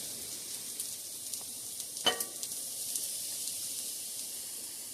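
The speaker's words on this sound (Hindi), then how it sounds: "ऑयल थोड़ा गर्म हो गया तो इसमें हम फिश को रखते हैं" Fish sizzling steadily in hot oil over medium heat for a lime fish dish, a continuous close fry hiss with one brief louder crackle near the middle.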